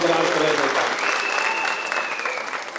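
Crowd applause at a rally, a loud, dense wash of clapping that carries on steadily while a voice speaks over it.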